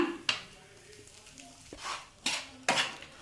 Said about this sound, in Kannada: ಇವಾಗ ನಾನು ಆಲೂಗಡ್ಡೆನ ಹಾಕೋತಾ ಇದ್ದೀನಿ ಹಾಕೊಂಡ್ಬಿಟ್ಟು ಇದನ್ನು ಮಿಕ್ಸ್ ಮಾಡ್ಕೊಳ್ಳೋಣ